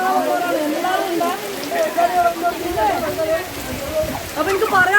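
Steady rain falls during the rainy season in Kerala, a constant close hiss and patter running throughout, while a voice talks over it.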